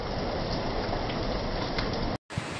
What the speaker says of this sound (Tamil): செம்ம மழை பெய்யுதுங்க. மழை பெஞ்சு இந்தாண்ட வர்ற அளவுக்கு பெஞ்சிட்டு இருக்கு.